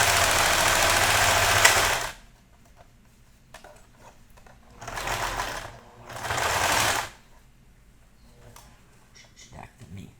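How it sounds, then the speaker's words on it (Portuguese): A domestic sewing machine stitches a thick fabric baby teether toy in three close bursts, one long run and then two shorter ones, with quiet handling noises in the pauses. "tá? A costura."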